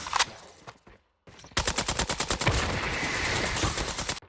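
Hipfire gunfire in Call of Duty Mobile: a short burst, a brief silence, then a sustained rapid automatic volley of evenly spaced loud shots.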